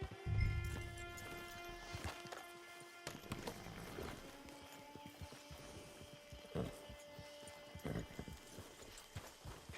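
Horse hooves clip-clop in Red Dead Redemption 2, a series of moderately close, uneven hoofbeats over a quiet game ambience with faint tonal music.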